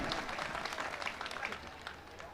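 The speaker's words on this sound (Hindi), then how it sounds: "एक बार ज़ोरदार तालियां बजाकर मुझे बताएं" Audience at a mushaira poetry event applauding, a lively wash of clapping that is loud at first and then gradually fades, with crowd voices mixed in.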